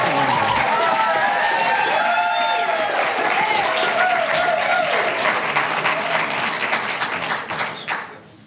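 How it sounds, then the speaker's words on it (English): Dense audience applause and cheering fill a city council chamber after a public speaker's remarks, steady and loud before tapering off at the end, with voices mixed into the clapping. "Please don't clap."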